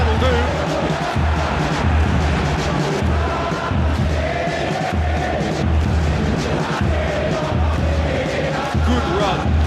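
A large stadium crowd in the football game eFootball PES 2021 roars and swells in a steady, dense wash of noise, with rhythmic low thumping chants pulsing underneath and a commentator talking over it.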